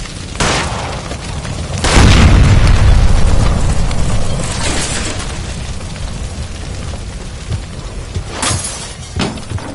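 A gas line blows up in the L.A. Noire video game. A loud, booming explosion sets off a long rumbling roar that fades slowly, with more bursts and crashes of debris coming after it.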